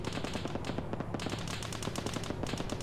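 Rapid automatic gunfire in the military video game Arma 3, sustained bursts of loud, closely spaced shots running continuously without pause.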